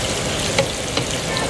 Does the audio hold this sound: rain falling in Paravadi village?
no